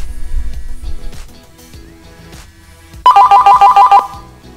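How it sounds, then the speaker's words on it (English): A Uniden 8355 XDECT digital cordless phone, linked by Bluetooth to a mobile, rings for an incoming mobile call: a short burst of bright, rapidly repeating electronic tones, loud and close, following quieter background sound. "Incoming call from the mobile."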